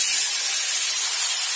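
Marinated chicken dropped into hot oil with bay leaves and spices for a masala chicken curry, giving a steady, bright, close sizzle and hiss with no talking.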